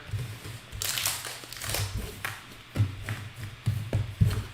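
Trading cards being shuffled by hand during a box break, with a string of soft riffling bursts and light taps in an uneven rhythm, close and fairly quiet.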